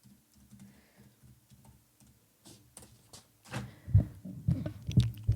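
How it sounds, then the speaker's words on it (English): Soft, rapid clicking of keys typed on a computer keyboard, quiet and close, with some louder thumps near the end. "Can you hear me typing?"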